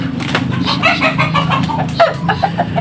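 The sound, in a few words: roosters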